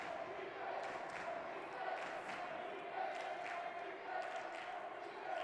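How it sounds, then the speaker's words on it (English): A crowd at a men's college basketball game chants defense in a faint, distant, rhythmic pulse that repeats about once a second under the general arena murmur. "And you can hear defense from the crowd."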